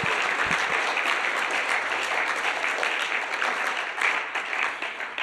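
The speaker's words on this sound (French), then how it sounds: "Donnez une bonne main d'applaudissement au Seigneur, qui est notre champion et notre héros," A church congregation claps in sustained, dense applause, loud and close, with a few voices briefly mixed in before the clapping thins slightly toward the end.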